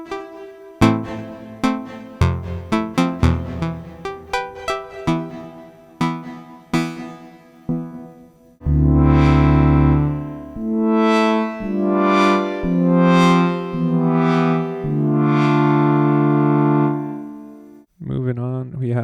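Behringer DeepMind 12 synthesizer played through its ambience reverb effect, first as short plucked notes and chords with decaying tails, then as long sustained swelling chords that ring out.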